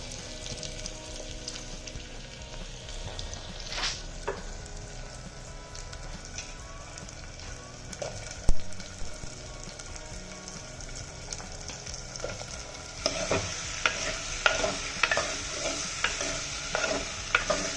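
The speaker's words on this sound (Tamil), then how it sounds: "வெங்காயம் நல்லா வதங்கிட்டு இருக்கு. இன்னும் கொஞ்சம் வதங்கினோன்னா முள்ளங்கியை போட்டுடலாம்." Chopped onions sauté in a pan for radish sambar with a soft, even frying hiss. The clicks of stirring grow louder and more frequent toward the end. No voice is heard.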